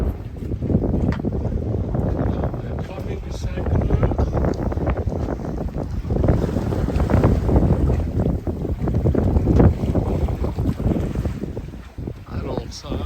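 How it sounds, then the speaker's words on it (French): Strong wind buffets the microphone in loud, gusty rumbles along the Greek coast near Petalidi, with the sound of a sailboat moving through water underneath. "le vent, il déboule dans ce petit passage là."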